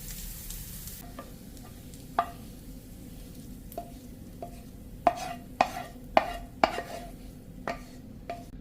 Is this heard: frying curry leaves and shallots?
yes